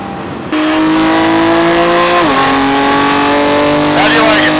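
Race car engine roaring on a track during a ride-along, loud and steady with rising and falling pitch as the driver shifts gears, plus faint tire noise while the tires are warmed up.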